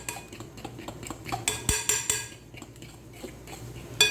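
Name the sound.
mixing sponge cake batter in a bowl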